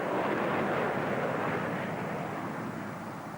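A Saab jet trainer flown by the Austrian Karo As aerobatic team, capable of over 600 mph, at a 1980s UK airshow, making a loud, steady broadband jet roar that fades slightly toward the end.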